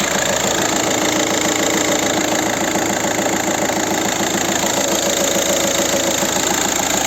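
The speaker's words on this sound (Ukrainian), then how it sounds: "Ці двигуни насос форсунка трохи шумніші" A 2.0 TDI pump-injector diesel engine in a 2010 VW Touran idles close by with a steady, clattering knock and a constant even rhythm, loud and uninterrupted throughout.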